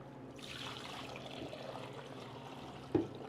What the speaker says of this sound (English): And then we're gonna top them off with water here.